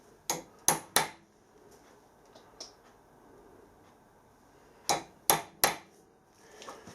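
Two quick bursts of three sharp metallic taps each, a hammer striking a centre punch into an old iron casting, close and crisp against a quiet workshop.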